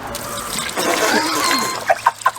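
Coolant poured through a funnel into a Mitsubishi Evo X GSR engine, a soft gurgling trickle, close, ending in a few short knocks and clucks.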